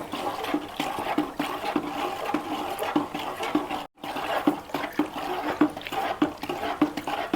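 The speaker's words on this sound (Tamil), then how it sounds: "கொஞ்சமாக இப்படி லைட்டாக ஊற்றிக்கிட்டு அப்படியே வந்து லைட்டாக மிக்ஸ் பண்ணிக்கிட்டே இருக்கணும்" Liquid is poured slowly in small amounts into a bowl while the mixture is stirred, making a close, continuous watery pouring and splashing with a brief silent break midway and no voices.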